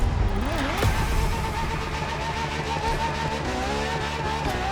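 A LaFerrari in The Crew Motorfest racing game spins its wheels: steady engine roar with rising pitch and squealing tires, loud and continuous for a few seconds, no voices.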